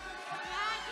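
A crowd cheers and shouts at an awards gala, a brief burst of excited voices close by with talking mixed in.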